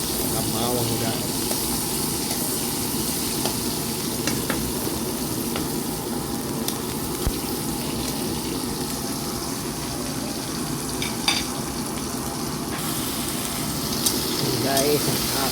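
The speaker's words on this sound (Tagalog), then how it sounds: "nagpan tayo ng sibuyas at bawang guys" Onion and garlic sautéing in a pan give off a steady, dense sizzle that runs unbroken throughout, with faint scattered clicks and a low rumble beneath.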